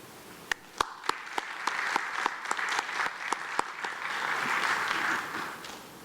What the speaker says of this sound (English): Let's welcome our speaker with a round of applause.